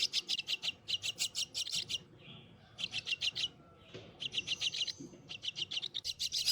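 A brood of hungry white-cheeked starling chicks, rescued from a pipe, begging for food with rapid, insistent high-pitched chirps in repeated bursts, close and loud, with faint rustling between calls.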